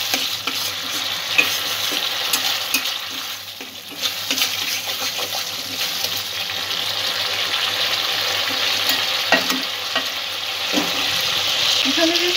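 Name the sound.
sautéing spices and ingredients for chaal potol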